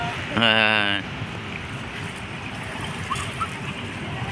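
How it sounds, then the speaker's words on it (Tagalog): Sea waves suddenly rise at Dolomite Beach on Manila Bay, giving a continuous rushing wash of water close by. A brief tonal, voice-like sound is heard near the start. "Ayan, nagkaroon po ng alon"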